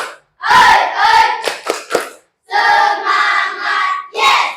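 In a classroom training session, a group performs a spirit clap, shouting short chanted calls in a quick rhythm punctuated by sharp bursts of hand claps, loud and close, with brief pauses between rounds.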